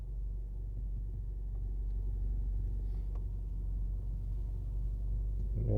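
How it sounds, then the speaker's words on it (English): Busy road traffic at a crowded shopping plaza in Savanna-la-Mar, Jamaica, a continuous low engine rumble of idling and creeping cars, steady and moderately close, with a vehicle revving louder at the end and no talk. "Maybe too busy, the traffic isn't moving."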